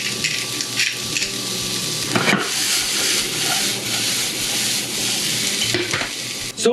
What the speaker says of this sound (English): just saute a little bit by a couple of minutes